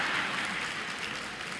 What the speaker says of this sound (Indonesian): Jangan tepuk tangan, gue jengkel.